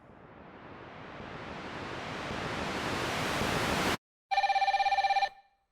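A telephone rings once with a loud electronic trill after nearly four seconds of rising hiss, then cuts off abruptly.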